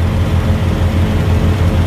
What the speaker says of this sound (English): You can hear my reefer trailer and my truck running behind me.